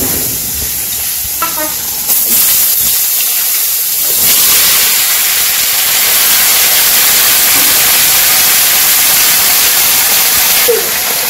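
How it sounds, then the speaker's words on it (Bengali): Cumin seeds sizzling in hot oil in a wok, a loud, steady hiss that swells and continues close by for several seconds. "কড়াইতে দিয়ে জিরা দিয়ে দিচ্ছি।"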